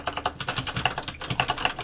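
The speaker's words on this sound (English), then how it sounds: "I have a mechanical keyboard" Rapid clacking keystrokes from a mechanical computer keyboard, steady and close, with uneven bursts of clicks running throughout.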